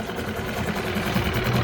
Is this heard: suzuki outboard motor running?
yes